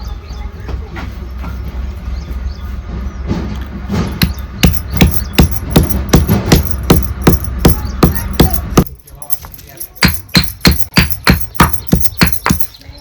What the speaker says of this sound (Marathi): आता हे सगळं अगोदर आपल्याला टिचून घ्यायचे आहे